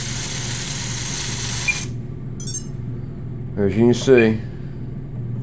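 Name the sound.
RC helicopter motors running with bad bearings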